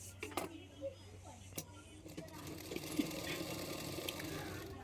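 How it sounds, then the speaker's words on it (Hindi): A sewing machine stitches a folded fabric hem on a small child's blouse, giving a faint, steady whir with light clicks while a voice is heard. "पीछे की तरफ फोल्ड करके सिलाई कर रही हूँ।"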